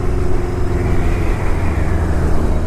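A beginner-friendly cafe-style motorcycle being ridden hard, its engine rumbling loud and steady throughout with a dense low drone and some wind noise, no voices.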